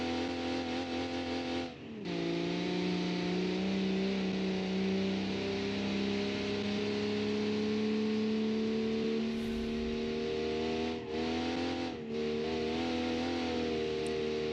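A 1978 sports car engine in a racing video game holds a steady, loud revving drone that dips briefly twice, then climbs back up, with no voices.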